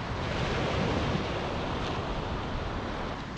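Ocean surf rolls onto a cold winter beach, a steady dense wash of breaking waves and wind noise that stays loud and close throughout, with no voices.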